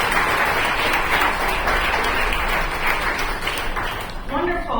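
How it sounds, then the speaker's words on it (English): Audience applause at a college event honoring a speaker, sustained dense clapping from a sizable crowd, tapering near the end as a voice begins talking over it. "How about one more round of applause for Dr."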